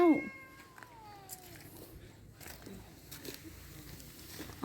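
A cat at a mountain camp shelter on Phu Kradueng, Thailand, gives a short, close meow at the start. Faint rustling and scattered soft noises follow in a quiet outdoor setting.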